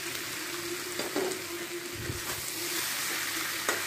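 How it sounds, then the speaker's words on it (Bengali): Prawns and potato frying in a pan, a steady close sizzle with stirring scrapes and a few sharper clatters, no one talking. "এতে আমি ভেজে রাখা চিংড়ি মাছ আর আলুটা দিয়ে দেব, দিয়ে আমি এটাকে ভালোভাবে কষিয়ে নেব।"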